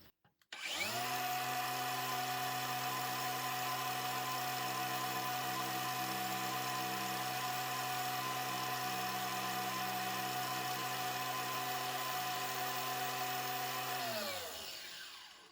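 Narex CBU 125 cordless angle grinder from the Camouflage series on a 4Ah battery, spinning up and running steadily with no load for about thirteen seconds with a loud, even motor whine, then winding down at the end.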